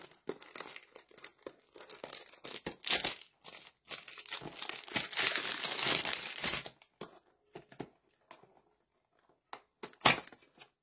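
Wrapping around a bouquet of Carolina gerbera flowers is handled and pulled open, making bursts of close crinkling and rustling with short pauses, then a few scattered crackles near the end.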